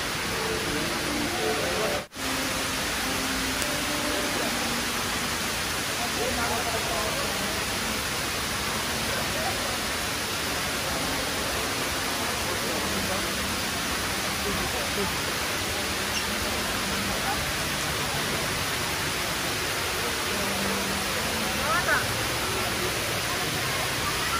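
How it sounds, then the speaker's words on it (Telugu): An indoor waterfall inside Dubai Mall gives a steady, even rush of falling water that fills the space without pause, with a faint murmur of crowd in the background. "ఈ వాటర్ ఫాల్ చాలా బాగుంటుంది."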